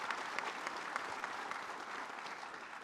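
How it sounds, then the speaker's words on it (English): Audience at a fire rescue academy graduation ceremony applauding the academy instructors, a steady wash of many hands clapping, moderately distant and even throughout. "let's give them a round of applause as well"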